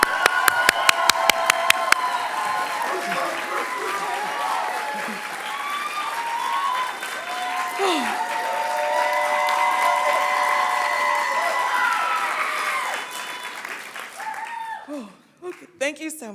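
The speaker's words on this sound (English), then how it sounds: "Please give a round of applause" Applause from the audience at a School of Education graduation hooding ceremony, a steady wash of many hands clapping that fades near the end as a voice briefly speaks over it.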